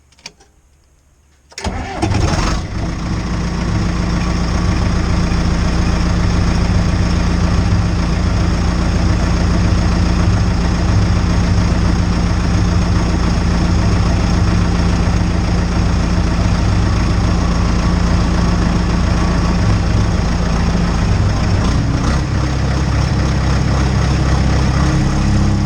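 John Deere-style 550G engine cranking and catching after a short silence, then settling into a steady, loud, low cold idle that drones on without revving.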